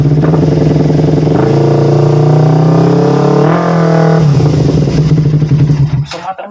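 Loud, close motorcycle engine held at high revs with a buzzing, steady drone that shifts pitch slightly midway, then drops off and cuts out near the end.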